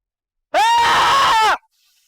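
A woman screams loudly outdoors, one sustained, piercing cry lasting about a second, close and alone against silence, cutting off abruptly.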